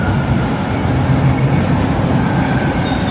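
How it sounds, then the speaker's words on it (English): A Toronto subway train rumbles loudly through Victoria Park Station, a steady close roar of wheels on rail with faint squeals, with no talking. "We'll just let this train roll in and out, and then I'll get up."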